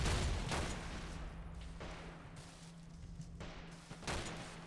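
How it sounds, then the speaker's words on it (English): STG-44 assault rifle fire during a Normandy invasion battle in the Call to Arms World War 2 mod, with a loud burst at the start and then several quieter bursts at intervals over a low, steady hum. "that STG-44 is crazy"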